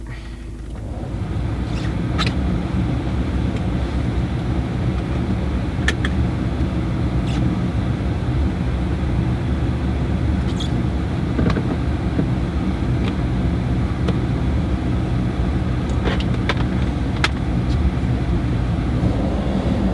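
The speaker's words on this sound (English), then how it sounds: "So what we're going to do now is we're going to just start the engine up." Volkswagen car engine starting and then idling, a steady low hum and rumble filling the cabin after a brief rise at the start, with occasional faint clicks and ticks over it.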